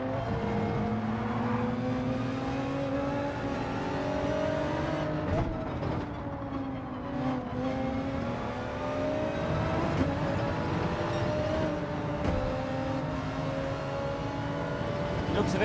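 An Audi race car engine in Gran Turismo 7 drones steadily throughout, its pitch rising and falling through gear changes during a race, with other cars' engines audible alongside.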